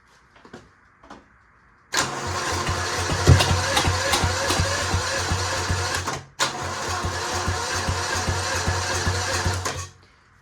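A seized Mighty Mac 8c skid steer engine cranks hard in two long bursts, a loud rapid mechanical churning that stops briefly between attempts without catching, with a few faint clanks just before.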